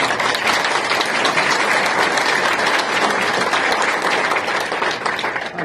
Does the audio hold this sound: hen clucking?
no